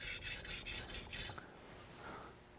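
A culinary knife is drawn in quick rhythmic strokes along a sharpening stone, about six rasping passes close by, and the sound then drops to faint quiet.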